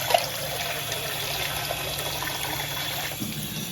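Water poured over boiled chowmein noodles to rinse and cool them, a steady continuous splashing and trickling flow at moderate level, with no talk.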